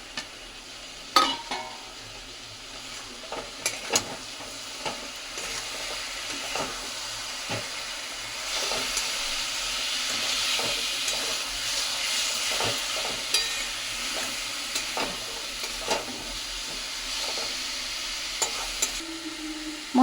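Spice paste being stirred and fried in a pan for a mutton beresta curry, a steady close sizzle with repeated scraping stirs of a spoon throughout, no voices.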